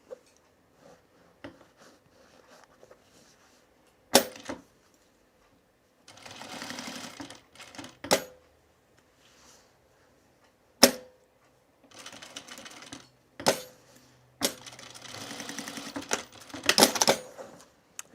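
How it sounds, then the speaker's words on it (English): A sewing machine stitches a fabric bag in short separate bursts of fast whirring, broken by quiet pauses and loud sharp clicks and clacks of the machine being adjusted, all heard close up. "let's sew it down here too"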